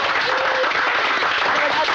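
A steady wash of audience applause fills a Bollywood film scene, dense and continuous throughout at a fairly loud, even level.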